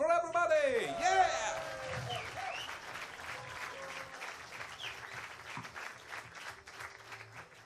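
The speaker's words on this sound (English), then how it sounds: "Send them at the line with your biggest applause you have" Applause from spectators for junior women's skeet shooting finalists, a moderate crowd clapping that follows an announcer's voice and continues steadily under light talk.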